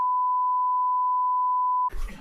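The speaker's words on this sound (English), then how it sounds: "Goddamn beep alert." A single steady censor beep tone holds for nearly two seconds, loud and clean, then cuts off into a brief burst of talking.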